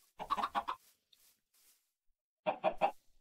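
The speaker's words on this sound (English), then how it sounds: "I've got a little chicken farm going." Chickens cluck on a small chicken farm in the game Wanderlust Reloaded, two close bursts of rapid clucking separated by a quiet pause, with no talk.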